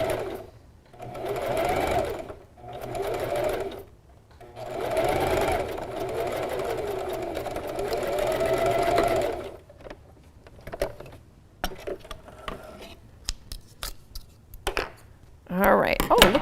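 A sewing machine zigzag-stitches fleece lining butted against a crocheted hat, running in long steady buzzing bursts separated by brief pauses, then stopping and starting in short spurts toward the end.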